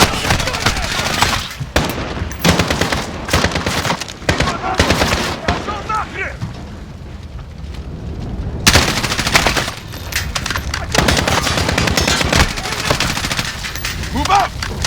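Sustained bursts of machine gun fire from the Modern Warfare (2019) campaign, loud and dense through the clip with brief lulls, mixed with battlefield gunfire and shouted squad voices.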